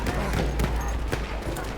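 Gunfire behind the player in the World War I shooter Battlefield 1, a few sharp distant shots popping through dense battlefield noise, fairly faint and brief.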